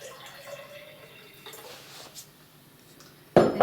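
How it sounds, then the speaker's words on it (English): Water pours into a glass to fill it halfway, a short, loud splashing rush near the end after a stretch of faint, quiet room noise. "Just take a glass, just fill it half full of water"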